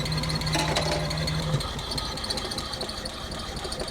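An abandoned Nissan R34 Skyline engine idles steadily up close, a constant mechanical drone with a faint tapping rattle and a short whining tone early on, no voices.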